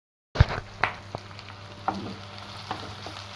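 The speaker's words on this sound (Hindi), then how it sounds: "ये मैं प्याज भून रही हूँ।" Onions fry in a pan with a faint, steady sizzle and a few soft clicks of stirring after a sharp first tap, heard close with no voices.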